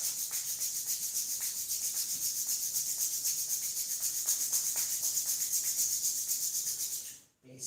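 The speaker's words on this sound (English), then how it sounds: "As you exhale, rub your palms." Palms rubbed briskly together during a live online yoga class produce a steady, close, continuous dry friction that keeps an even rhythm and then stops abruptly near the end.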